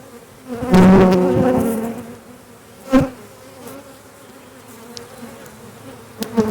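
Honeybees buzzing around a hive during Demaree swarm control work, a steady close insect hum that swells and fades, with a few soft knocks and no talk.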